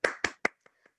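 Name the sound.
audience applause for Lauren Cooper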